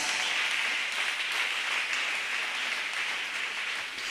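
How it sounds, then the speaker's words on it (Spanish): A church congregation applauds for San Ramón, a steady wash of many hands clapping together, fairly close and continuous without a break, with no voice heard over it. "Vaya fuertes aplausos a San Ramón,"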